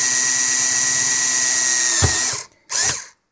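An electric drill whines steadily at high speed, loud and close, then cuts out and briefly revs again in a short burst before stopping; a 2 mm bit drilling holes in an LED heatsink.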